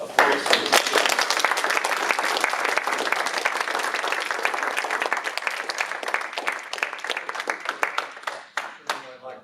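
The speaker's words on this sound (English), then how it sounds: "can everyone give another round of applause?" An audience applauds at the end of a university lecture on censorship. The clapping is loud and dense and keeps up steadily for several seconds, then thins out into scattered claps at the end.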